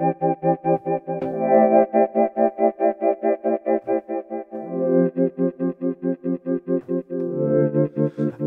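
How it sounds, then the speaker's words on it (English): Dexed, a software FM synthesizer emulating the Yamaha DX7, plays a bright, bell-like pulsing tone with a rapid rhythmic tremolo, held notes changing pitch a few times, clear and alone. "Dex Ed, the Yamaha DX7 FM synthesizer emulation."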